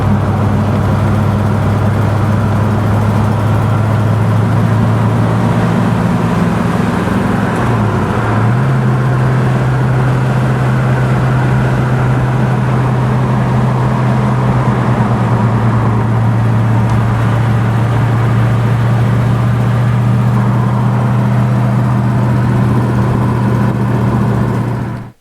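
A 1969 Mercury Cougar XR-7 with a four-speed manual, heard from inside while driving: a loud, steady engine drone with a brief dip in pitch partway through, as if shifting gears, then a continuous cruise.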